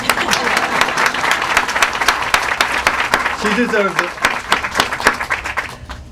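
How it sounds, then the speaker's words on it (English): Crowd at a mayoral campaign announcement applauding a supporter, loud dense clapping close by that lasts the whole stretch, with a brief spoken remark partway through. "Now you can clap,"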